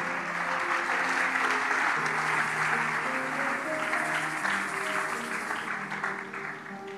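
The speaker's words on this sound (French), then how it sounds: "Allez, on acclame" Church congregation clapping and applauding together, a dense sustained wave of hand claps filling the room, with an organ or keyboard chord held underneath, tapering off slightly toward the end.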